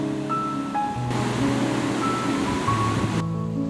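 The Ache River flows beside an old wooden bridge with a weather-darkened roof, heard as a steady, continuous rush of water with faint tonal hints in the background.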